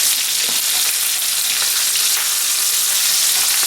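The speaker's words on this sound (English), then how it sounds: "going to put a nice sear on this roast and let this go a couple minutes on this side" A garlic-coated pot roast sears loudly in hot grease, a steady close dense sizzle and crackle that holds without break.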